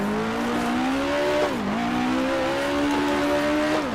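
A 1960s Grand Prix race car in the Grand Prix Legends game, at the 1966 Lady Wigram Trophy, drones at high revs, then dips sharply as it downshifts to first gear and climbs again with a steady engine whine.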